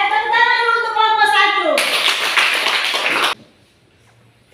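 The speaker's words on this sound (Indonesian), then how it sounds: "Tepuk tangan dulu untuk kelompok" Classroom applause for the first student group about to present in a religion lesson, a dense burst of clapping for about a second and a half that stops abruptly, following a stretch of voices.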